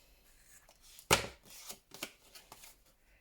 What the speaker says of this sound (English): cut off my corners, and I'm going to cut them off the top